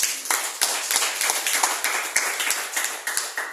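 A congregation at an Indonesian church service claps in a steady rhythm, with sharp individual claps repeating about three times a second, close and moderately loud, with no talk.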